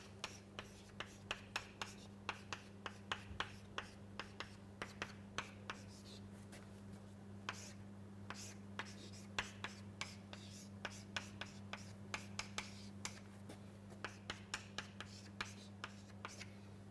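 Chalk or marker tapping and scratching across a board during a fluid mechanics lecture on circulation and vorticity, many short quick strokes in an irregular rhythm over a steady low hum, fairly faint and close.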